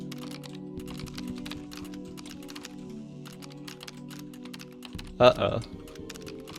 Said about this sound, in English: It's no, it's typing itself. I'm not typing any of this.